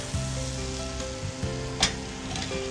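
Sabudana tart frying in hot oil, a steady continuous sizzle with low bubbling throughout and one brief sharper crackle burst partway through, close and fairly loud, no talking.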